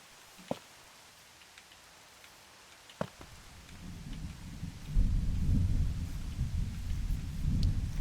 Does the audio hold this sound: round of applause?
no